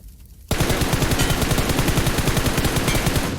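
Sustained rapid automatic gunfire from a squad-mode video game shooter bursts in loudly after half a second of near-quiet, continuing as a dense, steady volley without pauses.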